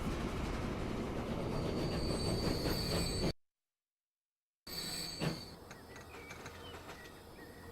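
A train in the Transport Fever game rolls into a station with wheel squeal, rumble and clatter, steady and fairly loud. The sound cuts out briefly, then returns as the train slows.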